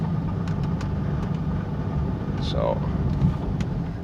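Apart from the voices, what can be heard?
car engine running while parking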